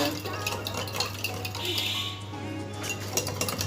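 A utensil clinks and scrapes against a glass container while potassium permanganate is stirred into milk, with light rhythmic tapping over a steady low hum, close and fairly quiet.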